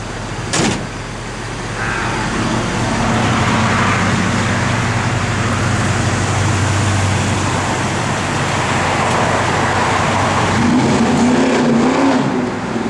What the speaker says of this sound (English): It's one of our happy customers in a 72 Chevelle. Does that every time it comes by.